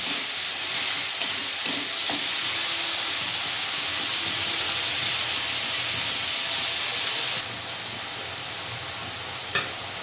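Spice paste of turmeric and tomato fries in oil in a pan, giving a steady close sizzle and hiss with a few stirring knocks; the sizzle drops to a quieter level partway through.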